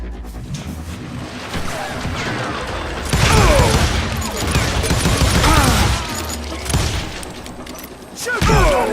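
Gunfire in the Western shooter Call of Juarez Gunslinger: a series of loud shots and bursts ring out, some heavy and booming, mixed with mechanical clatter and game sound effects, arriving in several distinct clusters across the stretch.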